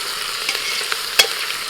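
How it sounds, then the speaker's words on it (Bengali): Mutton frying in a pan, a steady close sizzle with soft scrapes of stirring and one sharp clink of the spoon against the metal. "নাড়াচাড়া করে নেবো"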